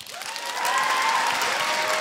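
A live show audience breaks into applause that swells within a half second and holds as a dense, close wash of clapping.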